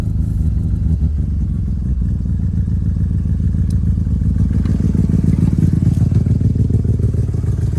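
A loud, close engine idles roughly after a cold start, with a low rumbling drone and a ticking, puffing exhaust leak sound throughout, no voices.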